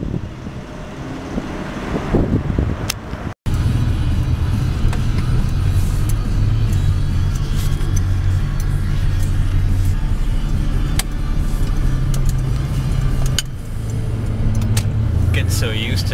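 A truck engine rumbles steadily from inside the cab while driving, with a low droning hum and road noise throughout, a sharp click early on, and faint talk.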